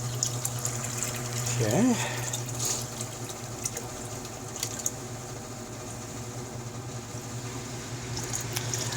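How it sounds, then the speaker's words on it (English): A solar-powered pump sends water into a container in an off-grid desert laundry water recycler, giving a steady trickling flow under a constant low hum, with a brief spoken word early on. "So we're going to get a little more water now."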